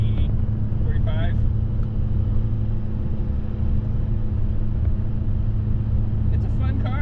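A Nissan Be-1 hatchback's engine drones steadily at about 95% throttle from inside the cabin, a continuous low rumble with road noise throughout.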